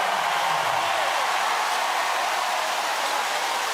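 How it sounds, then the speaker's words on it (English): A basketball arena crowd roars during a South East Melbourne Phoenix versus Sydney Kings NBL game. It is a dense, hissing wall of cheering and noise that stays loud and constant, with no clear voices standing out. "Listen to that noise from the crowd."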